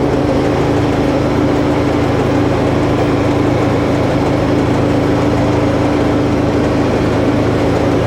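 A tractor engine runs loud and steady while throwing snow, a constant heavy drone with a low hum and whooshing blower noise filling the whole stretch without pause.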